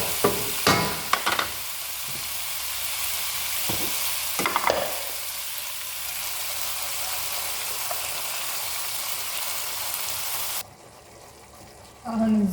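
Crushed tomato fries and sizzles in a pan with spices for chicken salona, a loud continuous hiss broken by spoon scrapes and stirring clatter, dropping quieter near the end before a final clank.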